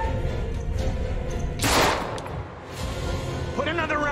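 Gunfire in the horror video game Little Hope, a dense burst of shots with a loud rush in the middle, heard up close alongside shouting voices.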